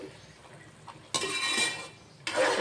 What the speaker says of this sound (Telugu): ఇప్పుడు దీన్ని ఒకసారి మంచిగా ఇలా తిప్పుదాం